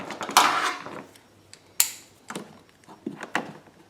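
Hose clamps are squeezed onto 1/4-inch and 3/16-inch fuel hoses for a Power Smart 4500 generator fuel kit, giving several sharp metallic clicks and creaks spaced irregularly, close and alone.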